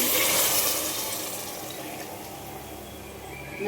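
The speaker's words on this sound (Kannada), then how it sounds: "ನೀರು ಆ್ಯಡ್ ಮಾಡ್ಕೊತಾ ಇದ್ದೀನಿ." Water pours steadily into a cooking pot holding vegetables, salt and spices for green pallav, a continuous close splashing rush that is loudest at the start and then eases slightly.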